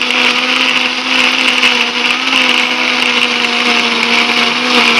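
A blender grinds curly chilies, shallots, garlic and coriander seeds into a spice paste, a loud, steady whirring drone that holds unbroken throughout with no talking.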